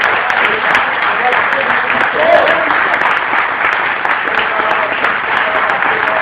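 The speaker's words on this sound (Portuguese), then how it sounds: "Podemos aplaudir ao Senhor e glória a Deus." Church congregation clapping in praise during a worship service, a broad sustained patter of many hands with voices mixed in underneath throughout.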